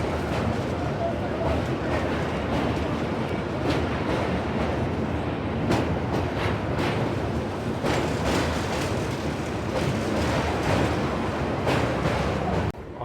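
An Indian Railways train crosses the Kiul River, a continuous loud rumble and rattle of wheels on track with buffeting wind noise throughout, rhythmic clacks punctuating the roar.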